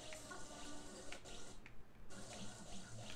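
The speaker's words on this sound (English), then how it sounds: "There's some water down there." Running water from a tap or stream in the Luigi's Mansion 3 video game on Nintendo Switch, a steady close flowing splash throughout with a brief dip in the middle.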